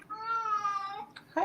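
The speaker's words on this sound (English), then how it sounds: "Your cat wants to get in the conversation." A cat gives one drawn-out, clear meow at close range, followed by a brief voice or noise at the end.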